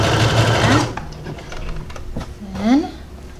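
A sewing machine stitches a summer skirt in a quick, loud burst of running stitches that stops abruptly. A few faint clicks and a short whirring follow as the fabric is adjusted.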